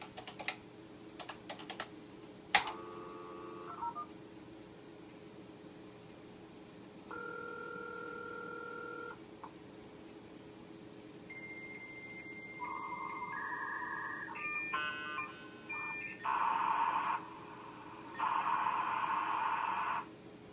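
A modem attached to a BBC Micro dials into a BBS. A few sharp keyboard taps come first, then dialing tones, and a run of handshake tones, warbles and bursts of hiss follows until the line connects, all fairly quiet and with no voices.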